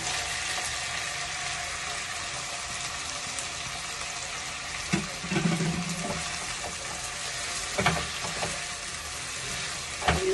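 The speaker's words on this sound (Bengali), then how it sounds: "এগুলোকে একসাথে পেঁয়াজ আদা রসুনের সঙ্গে টমেটোটাকেও ভেজে নেবো।" Chopped tomatoes frying with onion, ginger and garlic in a pan give a steady, fairly quiet sizzle, broken by a few brief clatters of stirring.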